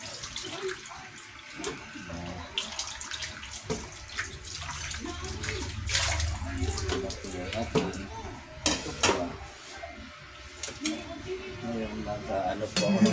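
Soaked tofu (tokwa) rinsed under a running tap for pork adobo, water splashing and trickling steadily close by with handling clatter, while a person talks over it.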